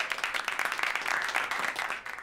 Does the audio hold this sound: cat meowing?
no